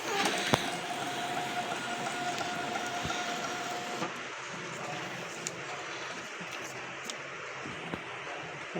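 M-MARK MV-410 label printer running after a gear repair, giving a steady mechanical whir with scattered faint clicks and ticks, close and fairly quiet throughout.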